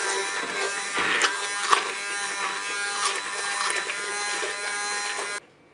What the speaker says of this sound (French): Maintenant je vais mixer.